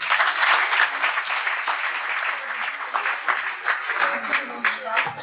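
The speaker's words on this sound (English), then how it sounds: "Please come, let's applaud him" Lecture hall audience applauding a speaker called up for a prize, a sustained, moderately dense clapping that stays steady throughout, with some talking mixed in.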